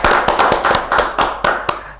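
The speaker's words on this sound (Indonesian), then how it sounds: "Tepuk tangan untuk Mr. Puisi" Close, rhythmic clapping welcomes a guest on a talk program: about eight sharp, evenly spaced claps roughly a quarter second apart, loud and near, with no speech over them.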